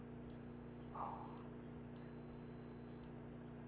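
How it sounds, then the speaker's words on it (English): An Instant Pot pressure cooker making chili beeps when its 11-minute pressure cooking time ends: two long, thin electronic tones over a steady low kitchen hum, with a brief faint sound between them. "our chili is beeping. So the 11 minutes pressure cooking time has elapsed."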